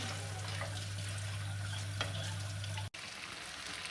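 Steady sizzling of potatoes in a hot frying pan, with faint scraping as they are stirred and a low hum that suddenly cuts out.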